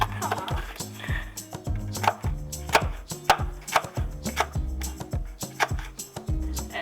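A knife chops rapidly and steadily on a cutting board, close up and fairly loud, with no talking.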